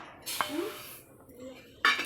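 A couple of sharp metallic clinks as a large pot and a bowl of semolina are handled close by, separated by a quiet pause.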